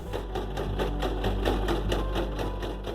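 Sewing machine stitching fabric for a homemade beach bag, a steady, loud, continuous mechanical whir with a fast regular needle rhythm throughout, heard alone without talk.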